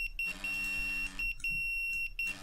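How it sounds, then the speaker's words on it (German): A smoke-alarm-style beeping from the Emergency 4 firefighting game, played with the Wegberg mod at a garden fire scene: a steady high tone repeating in on-off pulses, faint and in the background over low game ambience. "Da hört man ganz leise so eine Alarmierung im Hintergrund."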